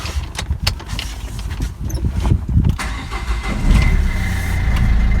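A Nissan Qashqai engine cranks with a few rough turns, catches, and settles into a steady, close idle.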